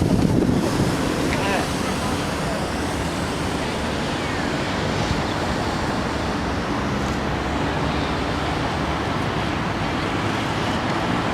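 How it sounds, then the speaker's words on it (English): A public fountain in Berlin sends out a steady, dense rush of splashing water that holds loud and unbroken throughout, with faint wind buffeting and no talking. "Found another fountain."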